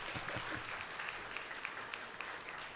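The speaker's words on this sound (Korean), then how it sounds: "박수가 나와야 안 되겠습니까?" Congregation clapping during a Sunday morning service at Gimhae North Church, a steady wash of hand claps that is moderately faint and somewhat distant, with a few sharper claps standing out and no talk over it.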